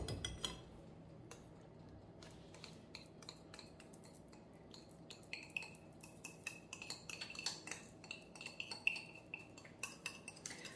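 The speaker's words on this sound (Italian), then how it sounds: "Quindi continuiamo a mescolare per bene e aggiungiamo il nostro burro." A utensil scrapes and clinks against a bowl while brownie batter is mixed, with quiet irregular taps that grow busier toward the end and no voices.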